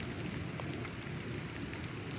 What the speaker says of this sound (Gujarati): સારો એવો વરસાદ આવી રહ્યો છે